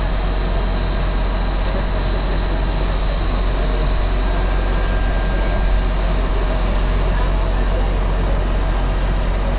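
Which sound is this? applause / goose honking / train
train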